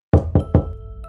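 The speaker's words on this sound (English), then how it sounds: "You knock on the door" Three sharp knocks on a door in quick, even succession, close and loud, then a short fading ring with nothing else following.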